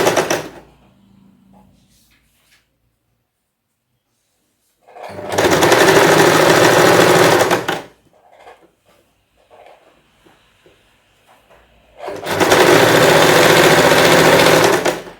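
Sewing machine stitching a cross piece of fabric, two loud bursts of rapid mechanical whirring, each about three seconds long, separated by quiet pauses that carry faint handling sounds.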